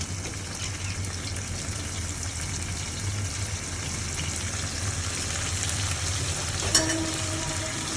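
Onions and prawns fry with turmeric in a pan, giving a steady, dense sizzle close to the listener that goes on without a break and with no talk.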